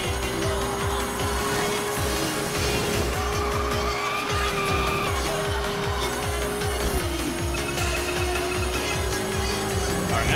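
Racing cars in Initial D Arcade Stage 7 roar nonstop while tires squeal and skid, with engine noise loud and close the whole way through.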